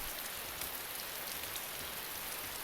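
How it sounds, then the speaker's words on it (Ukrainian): Steady rain in the DayZ video game, a dense, even hiss of falling drops that fills the whole stretch without pause and stays fairly soft. "Так, цей дощ, він такий трошки голосний"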